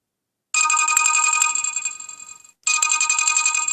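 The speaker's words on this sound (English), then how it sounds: "that's my ringtone, and you can scroll up and down through these." A bright electronic ringtone on a Just5 J510 mobile phone plays, cuts off after about two seconds, then starts again; no voices.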